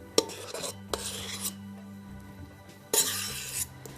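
Cake lace mix being spread onto a mat, heard as soft scraping and rasping strokes with light taps, faint and close, in a few separate passes without talk.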